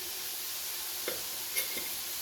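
French fries for poutine deep-frying in hot oil, a faint, steady sizzle and hiss with a couple of soft bubbling pops.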